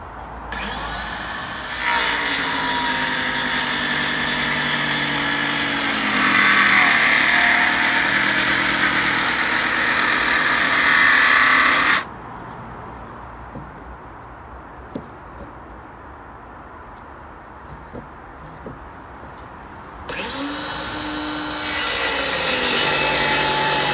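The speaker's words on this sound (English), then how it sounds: "And for this, we'll use the circular saw." A circular saw cuts through pallet wood for an allotment planter, loud and close: one long whining cut, a quieter pause with light handling noises, then the blade spins up again for a second cut.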